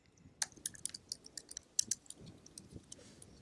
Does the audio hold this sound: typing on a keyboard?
yes